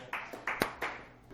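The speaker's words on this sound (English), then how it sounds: "Give it up for your host, Mr. C" A small comedy club audience at a dive bar gives a few scattered, sparse claps for the host, faint and brief, just a handful of distinct hand claps.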